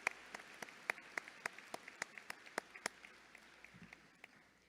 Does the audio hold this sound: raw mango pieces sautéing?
no